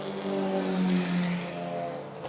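Race cars, including a grey Commodore and a red, white and blue Mitsubishi battling for third at a club circuit event, roar past with a sustained engine drone that swells and fades in pitch.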